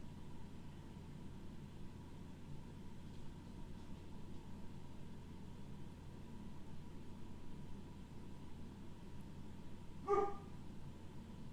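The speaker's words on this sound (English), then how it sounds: "My massive, scary sounding dog just saw a squirrel" A massive dog, set off by a squirrel, gives a single short bark far off and faint, over a steady hum of background noise.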